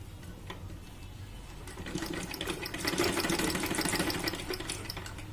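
A sewing machine runs steadily, stitching around the lining of a cotton frock, with a continuous whirring hum that grows slightly louder partway through, close and alone without talk.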